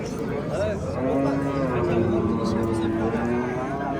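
Cattle at the Kattaqo'rg'on livestock market low with a long, loud drawn-out moo close by, under a busy crowd murmur, while people nearby talk over it.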